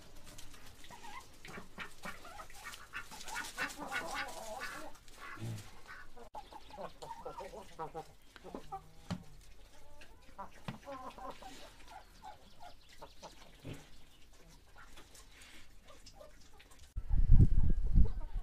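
Chickens and ducks cluck and chatter in a barnyard, with a busy mix of bird calls throughout and a louder burst of noise near the end.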